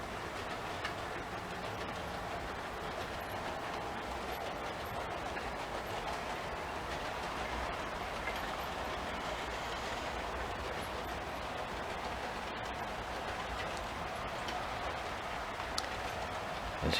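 A model train rolls steadily through a crossover onto the westbound main line of a display layout, giving a continuous even rumble with faint clicking, constant in level throughout with no voices.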